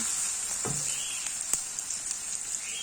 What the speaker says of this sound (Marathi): फोडणीचं रेग्युलर साहित्य एक अगदी छोटासा चमचा हळद घातलेली